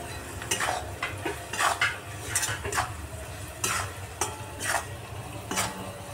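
Idli pieces stir-fried in a pan with chili powder, turmeric, salt and crushed peanuts, a spoon scraping and tossing in a steady rhythm over a soft sizzle, close and alone.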